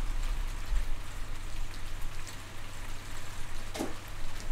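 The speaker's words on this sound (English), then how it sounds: "Oh, it's raining hard." Heavy rain pours down in a steady, dense hiss that continues unbroken throughout, with no voices over it.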